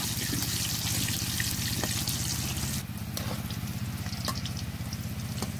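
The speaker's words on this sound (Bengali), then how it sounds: "এবার আলুগুলো ভালো করে ভেজে নেব।" Potatoes fry in oil for a mutton curry, giving a continuous close crackling sizzle with fine popping, which briefly dips partway through before resuming at a similar level.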